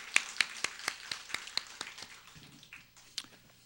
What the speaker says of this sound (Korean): 우리 재정이 여러 세 분 감사의 박수 드리겠습니다.